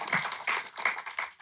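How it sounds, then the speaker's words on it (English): Live audience clapping at a Comic Con Museum panel, a steady, dense patter of many hands rising and falling in short waves, fairly close and filling the room, with no speech over it. "Clap it up."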